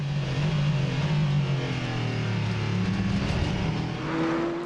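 A race car laps the hilly Portimão circuit during a 4 Hours endurance race, its engine revving hard and shifting through gears, loud and close with a droning pitch that climbs and falls.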